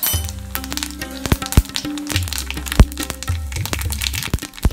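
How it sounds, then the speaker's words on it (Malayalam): Mustard seeds crackling in hot coconut oil in a pan for a Kerala-style roasted gram chutney, giving sharp, irregular pops and snaps, close and fairly loud over a steady low hum, with no talking. "കുറച്ച് കടുകിട്ട് പൊട്ടിക്കഴിഞ്ഞാൽ"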